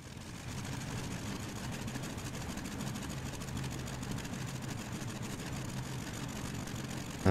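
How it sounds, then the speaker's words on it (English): A WWII aircraft engine in the combat flight game IL-2 Sturmovik, a steady low rhythmic mechanical chugging and whirring held at an even level throughout, ending with a sudden louder burst. "Anyway, let's get this engine started."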